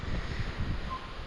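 Wind blows across an open farmyard on a cool, cloudy day of about 60 degrees, making a steady low rumble and buffeting against the microphone for a short moment.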